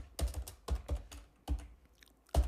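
Keys clack on a computer keyboard while LaTeX code is typed: about half a dozen close, crisp keystrokes in an irregular rhythm with short pauses between them, and no voices.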